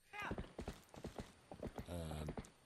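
A horse gallops in The Legend of Zelda: Twilight Princess video game, with rapid rhythmic clip-clop hoofbeats up close and a brief tonal, whinny-like sound near the end.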